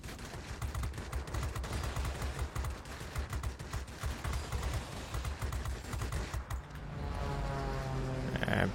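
Dense video-game battle gunfire, rapid continuous bursts of automatic shots layered with rumbling blasts, loud and unbroken, giving way near the end to a steady droning engine-like hum.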